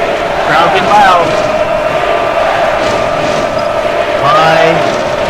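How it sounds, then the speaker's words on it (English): Simulated arena crowd in a college basketball video game swells with loud cheering and roaring near the end of a close game, rising and falling under a commentator's voice. "Crowd get loud."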